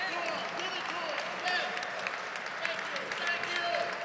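Audience applauds the cast, writer and director after a theatre performance, a soft, steady wash of clapping heard from a distance with a few voices and cheers mixed in.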